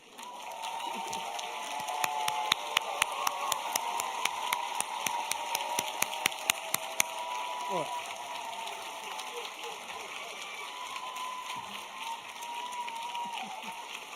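A commencement ceremony audience applauds graduates at a degree-conferring ceremony, with steady, hall-filling clapping that swells and holds, a few sharp nearby claps standing out early, and faint murmuring beneath.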